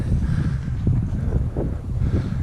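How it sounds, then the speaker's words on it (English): Wind gusting steadily across an open granite tor on Dartmoor, a continuous low roar buffeting the microphone with no voices. "The wind's picked up a little bit, not a lot, but it has a little bit."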